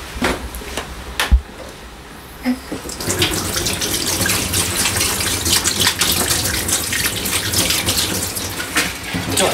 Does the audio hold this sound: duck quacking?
no